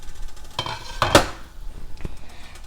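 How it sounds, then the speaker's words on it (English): A lid lifted off a pot of simmering vegetarian albondigas soup gives a few light metallic clinks, then one sharp, close clank partway through, with quiet kitchen background around it. "now I'm going to take off the lid"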